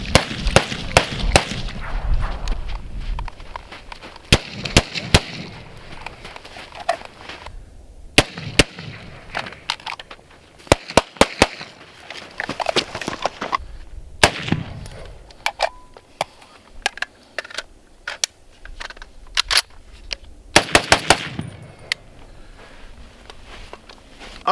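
A Springfield Armory M1A Socom 16 CQB rifle fires repeatedly outdoors, sharp loud cracks in irregular strings of single shots with short gaps between them, and no talking.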